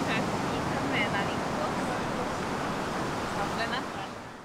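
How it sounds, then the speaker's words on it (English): Ocean waves wash onto a beach in a steady, broad roar, with a wind rush over the microphone as a cyclist sets out from the shore; the surf stays loud and continuous, easing slightly near the end. "the sound of the waves"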